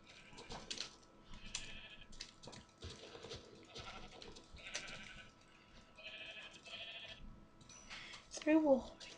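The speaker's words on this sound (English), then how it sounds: "Sheep." A sheep in the Minecraft video game gives a short, wavering bleat near the end, heard over steady talking and keyboard tapping.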